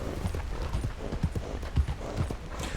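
Horse hooves clip-clopping as a horse is ridden in the video game Red Dead Redemption 2, a steady, close, rhythmic trot of dull thuds heard alone.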